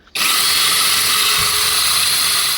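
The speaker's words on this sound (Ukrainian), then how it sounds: "Тут можна підточувати сверла, бачите, а ось тут можна підточувати ножі." A cheap electric drill bit and knife sharpener switches on abruptly and runs with a loud, steady high-pitched motor whine close by, no talking.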